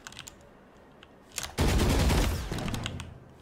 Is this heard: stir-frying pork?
no